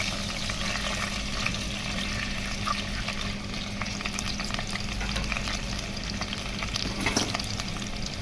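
Sliced onions frying in about half a cup of hot oil in a pot for a cabbage dish, giving a dense, even sizzle that holds steady and close with faint stirring scrapes.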